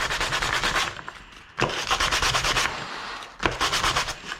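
Plastic edge being sanded by hand, back and forth, in rapid scratchy strokes that come in three bursts with short pauses between them; close and fairly loud.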